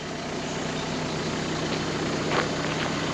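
A Renault Kangoo van's engine idles while warming up, giving a steady, even low rumble that stays constant throughout with no voices over it.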